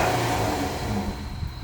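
A 2019 Ram Rebel pickup engine with a K&N air intake revs up briefly, a loud mid-pitched roar rising and settling over a second or so, heard close by.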